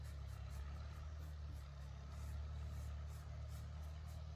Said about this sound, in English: And now there's a tractor going.